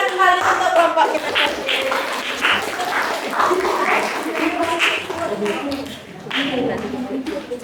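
A classroom of students claps out a rhythmic call-and-response chant in bursts of patterned clapping, with a teacher's voice and children's voices mixed in over the claps.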